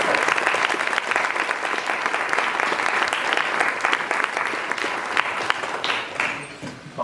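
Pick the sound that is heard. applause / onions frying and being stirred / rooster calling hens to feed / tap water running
applause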